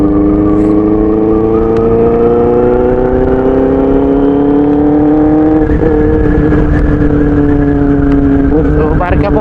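A Benelli 600i motorcycle with a loud exhaust revs hard close by, its engine roaring with rising and falling pitch in sustained bursts that fill the whole stretch, with voices faintly audible beneath.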